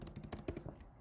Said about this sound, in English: we're gonna type the edge color